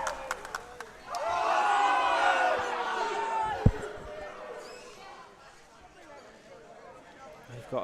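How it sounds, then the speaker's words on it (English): A passionate crowd at the EPFA Home Nations 2022 football final between England and Northern Ireland roars and chants, swelling loudly and then fading into a low, distant murmur, with a sharp knock partway through. "Very passionate crowd, that's all I can say."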